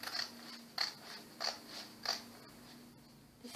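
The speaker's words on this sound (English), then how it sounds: "Sharp scissors, and we're going to cut." Sharp scissors snip through paper from an old calendar, four crisp cuts at an even rhythm, close and clear in a quiet room, followed by a softer cut at the end.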